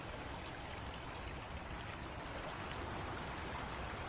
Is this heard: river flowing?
yes